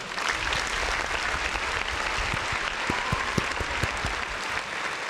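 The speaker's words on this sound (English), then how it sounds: "Let's round of applause for the folks in the chat" Applause from a live-stream show audience, dense steady clapping sustained throughout at moderate loudness, with scattered sharper claps standing out near the middle.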